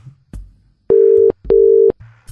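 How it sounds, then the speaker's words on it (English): A telephone ringback tone on a call to a phone number, two long steady rings in a row, each close to half a second long, with short clicks and quiet line noise between them. "You got a ringtone."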